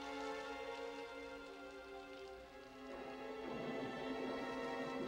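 Steady rain falls outside on a stormy night, a dense continuous patter with a sustained tonal music bed over it and no voices.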